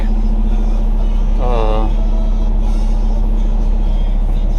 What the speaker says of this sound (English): That way you can hear it. Motor and stuff.